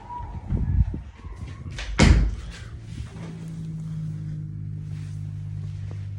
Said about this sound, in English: I want to shut my door.